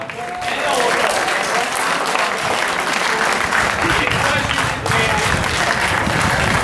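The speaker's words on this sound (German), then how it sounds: "guten Applaus und schönen Applaus" Loud applause from a crowd at a football club's championship celebration, with sustained dense clapping across the whole clip and a voice speaking over it.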